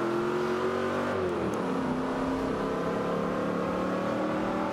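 A racing car in Forza Motorsport 5 is held at full throttle, its engine droning loud and continuous, with the pitch sagging briefly before it settles into a sustained high-rev roar.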